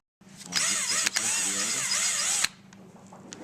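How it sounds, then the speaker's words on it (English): A power drill whines loudly and steadily for about two seconds, its pitch wavering as it reams holes in a Saiga 12 gauge shotgun, then cuts off abruptly, leaving faint background noise. "we've drilled a couple holes here"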